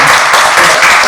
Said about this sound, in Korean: 긴 시간 동안 많은 이야기 해주신 우리 김진민석 작가님께 뜨거운 박수 한번 부탁드립니다